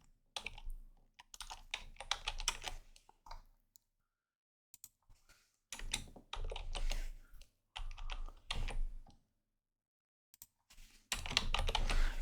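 Keyboard typing for a Google Scholar search, quick clustered bursts of key clicks separated by short silent pauses, close and fairly quiet.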